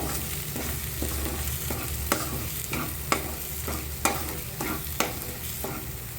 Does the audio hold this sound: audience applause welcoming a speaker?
no